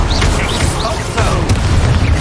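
An Expulso explosion spell in the Hogwarts Legacy video game goes off as a loud, heavy boom with crackling bursts, surrounded by continuous game noise and a voice calling out.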